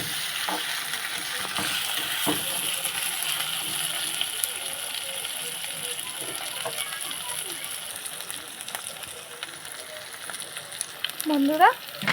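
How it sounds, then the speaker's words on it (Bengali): Cut potatoes fry with spices in an oily pan, giving a steady close sizzle with scattered crackles and stirring scrapes throughout and a brief utensil clink near the end. "আলু দিয়ে মশলার সাথে ভালো করে কষিয়ে নেবো"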